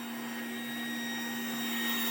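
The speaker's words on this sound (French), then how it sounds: "donc là, vous avez en même temps le son, hein, de l'aspirateur" Vacuum cleaner running on a carpet, a steady whining motor hum with a constant pitch and broadband airflow hiss, close and uninterrupted.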